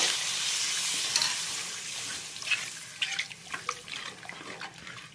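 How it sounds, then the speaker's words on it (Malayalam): Water is poured into Kerala-style egg curry masala paste with a loud splashing rush, then a softer run of scraping, clinking stirs follows in the pan. "ഇനി അപ്പം അതിന് ചേരുന്ന വെള്ളം ഒഴിക്കുകയാണ്."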